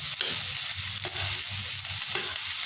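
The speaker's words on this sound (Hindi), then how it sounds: "बैंगन ऑमलेट हमारे तैयार हो रहे हैं दोनों साइडों पे" Eggplant omelette fries in a pan, a loud, steady sizzle up close with soft periodic scraping or stirring sounds beneath it.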